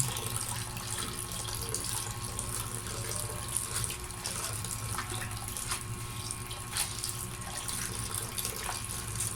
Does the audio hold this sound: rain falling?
no